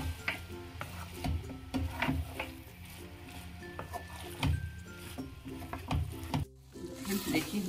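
A spoon stirring garam masala through Maggi noodles in a hot pan, giving repeated scraping strokes with a light sizzle underneath, fairly close and steady, with a short quiet break near the end.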